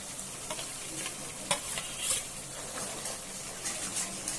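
Cashew nuts sizzle in hot oil in a pan with a continuous crackling fry and small bursts of spitting, fairly quiet and close, with no talking.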